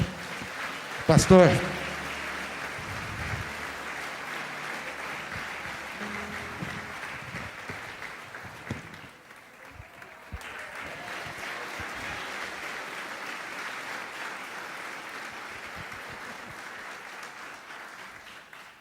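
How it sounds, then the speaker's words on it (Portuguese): A church congregation claps for the Lord after a short sharp burst, the applause carrying on as a steady, moderately distant patter with a single spoken word near the start. "Aqueles que creem que Jesus Cristo é o Senhor da nossa vida, vamos aplaudir ao Senhor."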